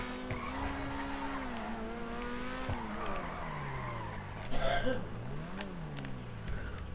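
A Grotti Bestia GTS sports car in a video game revs and shifts with a rising and falling engine tone, tires squealing and skidding through turns, loud and continuous.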